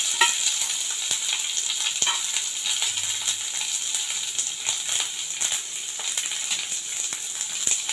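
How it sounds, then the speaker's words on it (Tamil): Small shallots sauté in a pan with curry leaves, a steady close hissing sizzle with occasional light clicks of stirring. "அதையும் போட்டு வெங்காயத்தை கொஞ்சம் மணக்கிக்கலாம்."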